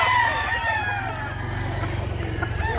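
A young bullstag rooster crows at a poultry market, the call drawn out over a steady low rumble of nearby engine or crowd noise.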